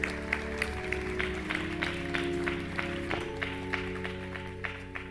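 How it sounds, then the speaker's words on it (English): Audience at a Women's History Month school assembly applauding Miss Jessica Edwards; soft, sparse clapping with scattered distinct claps over a sustained musical hum, fairly distant and quiet. "Let's give Miss Jessica Edwards another round of applause."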